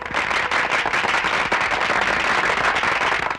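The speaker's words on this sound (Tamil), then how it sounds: "துப்பாக்கி சத்தம் கேட்காம பட்டாசு வெடிக்கிற சத்தம் கேட்கறத பார்த்தா" Firecrackers burst in a dense, continuous crackle of sharp pops, loud and close throughout with no pause and no voices.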